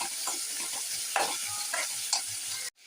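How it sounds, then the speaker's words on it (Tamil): Chopped onions sautéing with salt in a pan, a soft continuous sizzle with occasional scraping stir strokes, close and fairly quiet, cutting off abruptly at the end. "இது நல்லா சேர்த்து வதக்கிக்கலாம். வெங்காயம் நல்லா வதங்குது."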